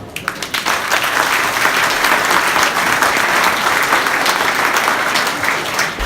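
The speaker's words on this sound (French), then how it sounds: "Vous pouvez l'applaudir." A crowd at the Péone village patronal festival gives loud, sustained applause after a speech, dense and even, with a few sharp individual claps at the start.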